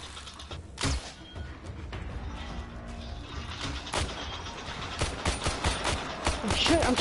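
Rapid gunfire from a Minecraft shooting fight rattles in dense, continuous bursts with sharp cracks, mixed with mechanical clatter and game noise throughout.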